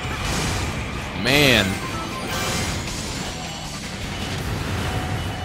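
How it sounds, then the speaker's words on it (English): Glass shattering repeatedly in the Speed Highway stage of Sonic Generations, a busy crunching spray of breakage beneath game music and someone talking. "Listen, all that breaking glass..."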